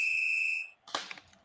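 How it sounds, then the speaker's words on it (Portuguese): A referee's whistle signals the start of a football match between Guarani and Ituano with one sharp, shrill blast lasting just over half a second. A brief burst of crowd or broadband noise follows. "Apita o jogo, Felipe Fernandes de Lima."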